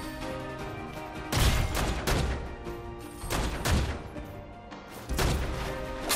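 Bursts of rapid gunfire crackle in several loud volleys over a steady mechanical background in the video game Foregone, close and harsh, with no voices.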